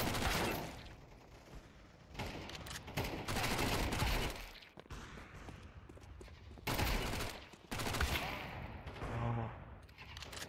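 Mac-10 submachine gun in Counter-Strike 2 firing rapid bursts: dense, loud rattling volleys come in several clustered stretches with brief gaps between, and faint voice near the end.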